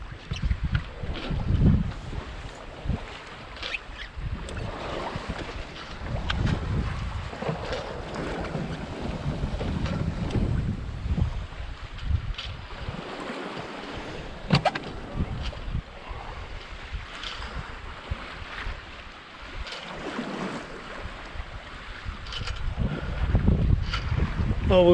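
Gusty squalls buffet a sailboat at sea, with steady rushing wind noise pressing on the microphone, rising and easing in loud surges over the faint wash of water.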